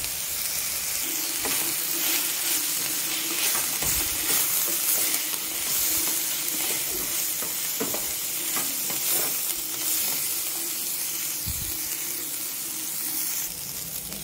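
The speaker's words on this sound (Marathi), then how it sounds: "आणि चांगलं परतून घेऊयात." Taklya wild monsoon greens being sautéed with grated coconut in a pan: a steady, close sizzle with repeated scraping stirs and light crackles, without any talking.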